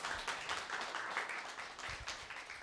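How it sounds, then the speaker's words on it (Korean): An audience at a year-end talk concert gives a sustained round of applause after a professor's performance, a dense steady patter of many hands clapping throughout. "다시 한번 큰 박수 부탁드릴게요."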